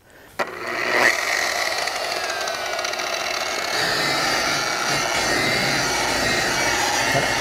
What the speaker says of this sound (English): You just want to keep buffing that till all that compound goes away